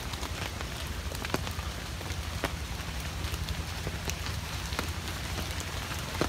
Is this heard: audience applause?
no